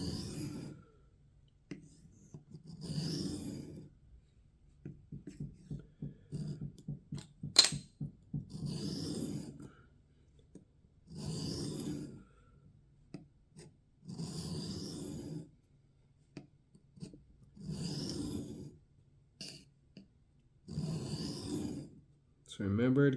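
A kitchen knife is drawn across a diamond sharpening stone in repeated rasping strokes, about eight evenly spaced bursts with short pauses, close and moderately loud, with some clicks and light handling noise between passes.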